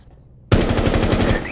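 Automatic gunfire in Rainbow Six Siege, a loud close burst of rapid shots that starts abruptly after a moment of near silence and keeps a fast even rhythm.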